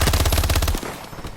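The SAC3 Introvert in Call of Duty Advanced Warfare fires in a rapid, close, loud burst of evenly spaced shots that stops abruptly, leaving a brief fading tail.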